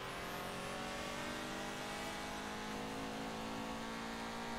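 A race car engine in Forza Motorsport 7 during a Le Mans endurance race roars steadily and loudly throughout, with sustained high revs and harmonic whine and no talk.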